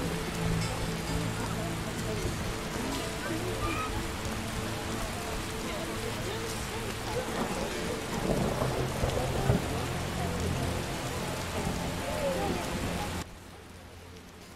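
Rain falls heavily in The Witcher as a thunderstorm gathers, with a dense steady hiss of downpour and low rumbling swells. It plays without voices and cuts off abruptly near the end.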